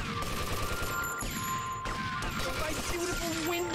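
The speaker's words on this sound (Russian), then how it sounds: "Кто по мне стреляет?" Gunfire in a GTA Vice City mission: a dense, steady barrage of game shots and impacts layered over background game sound and music, continuous and fairly loud throughout.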